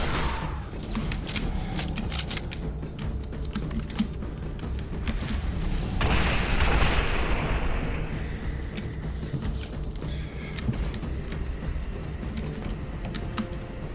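Rocket explosions in Quake 4 burst out loudly around the middle, a rumbling blast that fades over a couple of seconds amid steady clicking and tapping from the game.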